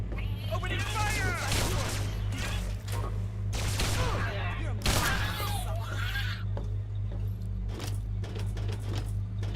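Bursts of gunfire crackle in Fallout 3, several rapid volleys in the first half and another around the middle, under overlapping game voices and a steady low background hum.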